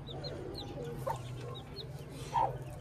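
Chicks and hens inside a pigeon cage, heard as soft, scattered chirps and a few clucks over a constant low hum, fairly close, with no talking.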